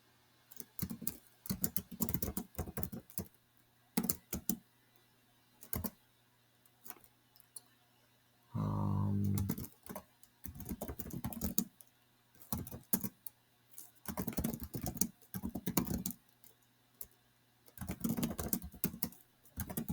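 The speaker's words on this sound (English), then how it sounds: "it's just typing, so it's no big deal" Bursts of computer keyboard typing come in irregular clusters of rapid clicks separated by quiet pauses, close and clear, with one short louder non-typing noise in the middle and no speech.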